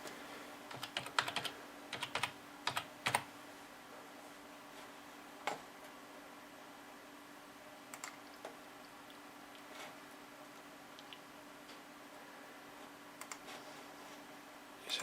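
Someone types a password on a computer keyboard, giving scattered clusters of sharp, quiet key clicks with long pauses between bursts in an otherwise quiet room.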